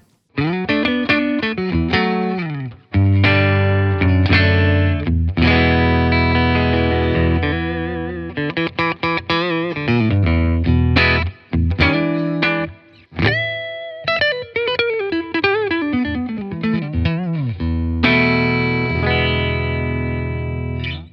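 A Fender Powercaster electric guitar on its MP90 neck pickup plays a continuous run of chords and single notes through a Fender Bassbreaker 30R clean channel, clean in tone with a touch of room-like reverb, no voices.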